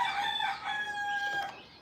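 A rooster crows once nearby, a long raspy cock-a-doodle-doo rising and then trailing off, loud and clear with no talking.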